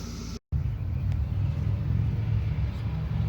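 A 1984 Pontiac Firebird with a swapped 4.8-liter LS V8 cruises along, its steady low engine rumble and road noise continuous after a brief dropout near the start, with no talk.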